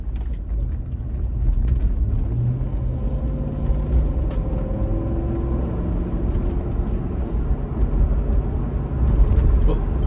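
A 2000 Toyota Land Cruiser cruises down the road with a steady low engine and road rumble inside the cabin, continuous and even throughout, with faint talk underneath.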